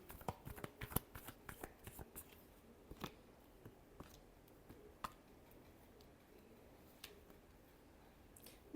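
Tarot cards being shuffled, giving soft, irregular riffles and flicks that are faint and close, with no talking.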